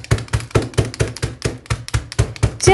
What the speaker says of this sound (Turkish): Ve bisküvilerimi ezmeye başlıyorum